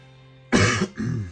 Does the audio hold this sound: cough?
yes